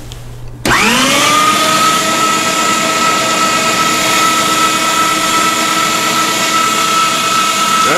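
An electric meat grinder starts up and runs steadily while bacon strips feed through for sausage, a loud, close, continuous motor whine with no talking.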